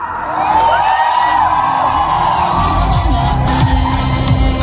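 A large audience at a stage event with Nazriya Nazim and Basil Joseph cheers, whoops and yells loudly and continuously, a dense crowd roar filling the space with no break.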